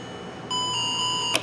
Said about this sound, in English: So the Melody chip, you can hear it sounds like a doorbell.